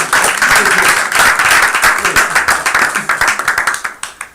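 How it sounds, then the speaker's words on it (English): An audience at a worship gathering applauds the elders in the room with loud, close clapping that stays dense for several seconds, then thins into scattered individual claps before stopping. "I'll give elders a round of applause"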